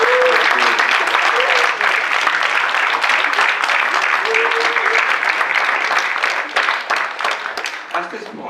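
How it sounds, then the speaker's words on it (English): A Bharatanatyam Arangetram audience breaks into sustained, dense applause that holds steady and then thins out toward the end. "please give Dr. Salvamina a heartfelt round of applause"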